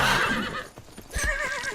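A horse in the video game Myth of Empires gives a loud, close whinny, a quavering neigh that fades and then rises again, with a few hoof thuds between.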